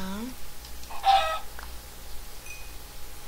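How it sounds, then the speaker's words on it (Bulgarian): A chicken in Minecraft clucks briefly once, with a few soft synthetic tones around it and a quiet background. "Ого, кокошки."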